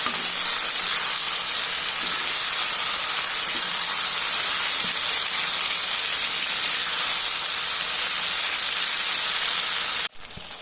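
Peas and tomato sautéing in a pan for rohu fish curry, giving a loud, continuous hiss of frying that holds steady for about ten seconds and then drops off abruptly near the end; no talking.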